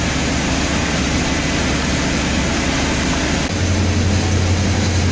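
A crate engine runs on a dyno during break-in, warming up to operating temperature: a loud, steady, dense mechanical drone that holds constant and deepens slightly partway through, with no talk.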